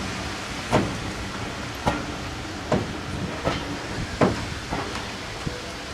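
A Severn Valley Railway train approaches Country Park Halt, its wheels giving a steady, evenly spaced clickety-clack over the rail joints above a continuous low rumble and hiss, with no voices.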